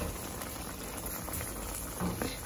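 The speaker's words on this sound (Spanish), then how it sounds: "Miren qué rico, hirviendo." Chorizo with egg and beans boiling in a pot, a dense steady bubbling and popping heard up close with no talk.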